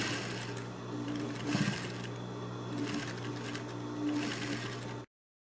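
Sewing machine stitching the side hem of a shower curtain, a continuous fast whirring run with slight speed swells, close up, stopping abruptly near the end.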